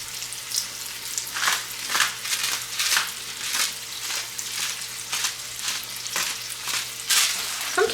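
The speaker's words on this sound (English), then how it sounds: "cook, stirring frequently until the onions are soft and golden brown" Onions fry in a pan until soft and golden brown while being stirred often, a steady moderate sizzle broken by regular scraping strokes of the utensil roughly every half second.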